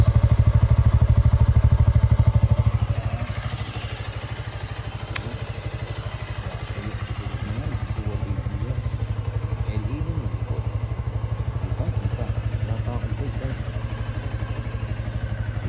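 A Suzuki V-Strom 160 motorcycle engine with its stock exhaust pipe idles in a steady low hum that is louder for the first few seconds, then settles to an even, moderate drone.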